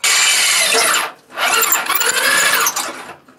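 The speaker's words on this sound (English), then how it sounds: "I'm going to actually drill those now." Two loud, harsh bursts of a power drill biting through a metal plate, separated by a brief pause, close and grinding.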